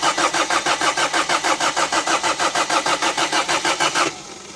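A car with solid motor mounts and a rod knock cranks with a fast, even rhythmic churning for about four seconds. Then it catches and settles into a lower, steady idle, loud and close.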